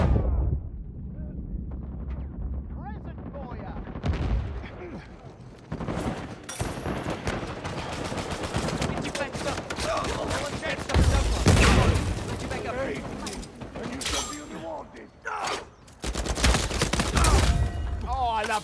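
Rapid bursts of gunfire in an Uncharted 4 team deathmatch on the Madagascar City map, dense loud automatic volleys and single shots with explosions, continuing almost nonstop while a voice talks over the action.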